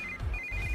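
A telephone ringtone chirps with a thin, steady electronic tone that cuts out briefly and resumes, heard faintly over a low background rumble in a short burst.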